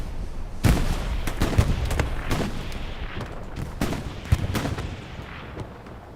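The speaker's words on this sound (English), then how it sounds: "that's the 76 shelling the cornfield to the southwest, along with artillery right now" Tank shelling and artillery fire in the WWII game Hell Let Loose, a steady barrage of loud booming impacts and gun reports landing irregularly over several seconds, dense and rumbling, with no talk over it.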